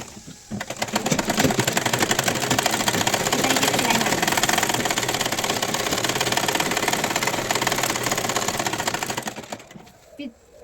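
A sewing machine stitching cloth for a kurti runs steadily and loudly for about nine seconds with a dense whirring, motor-like hum, then stops, leaving a brief quiet tail.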